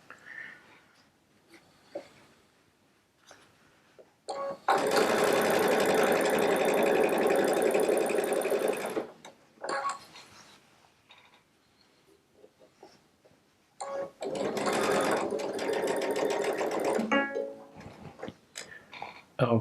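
A Baby Lock Solaris sewing machine with a quarter-inch piecing foot stitches fabric pieces together in two long, fast, steady runs, loud and close, separated by quiet handling clicks and rustles.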